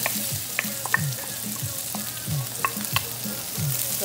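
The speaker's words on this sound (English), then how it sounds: "now I'm going to go ahead and add the onions and the garlic to the pan" Onions and garlic frying in a pan for seafood paella, a constant close sizzle broken by rhythmic stirring scrapes and occasional light clicks of a utensil.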